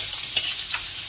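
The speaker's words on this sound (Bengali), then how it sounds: "আগে এটা একটু ভেজে নিই।" Potatoes tossed with a little turmeric frying in a pan, a steady broadband sizzle throughout with a couple of brief stirring scrapes, close and moderately loud, no talking.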